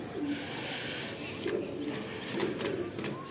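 Several pigeons coo in soft, repeated low throaty calls, close by at a pigeon loft, with a constant hiss of background noise.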